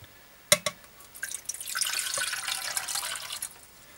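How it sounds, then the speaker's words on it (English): Water pours into a cup from a Yugoslavian mess kit in a steady splashing stream for a few seconds, preceded by a couple of sharp clinks. "I'll pour the water into the cup."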